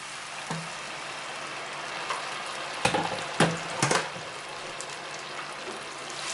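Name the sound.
sauce poured into hot pan, sizzling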